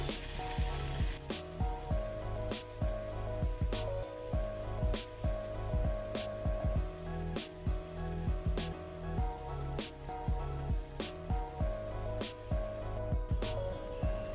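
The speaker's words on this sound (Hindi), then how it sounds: "हमने धीमी आंच पे ही इसे फ्राई करना है, गड़बड़ नहीं करनी है।" Paneer malai tikka sizzles gently in oil over a low flame, a continuous soft frying crackle with light taps and clinks of a utensil at a regular pace, close and moderately quiet, no talking.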